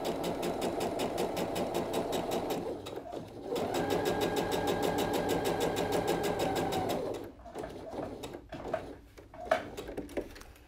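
Domestic sewing machine running a basting stitch about 5 mm from the edge of fabric for a blouse, a steady rapid close-up whirr in two long runs with a brief pause, then quieter handling noises.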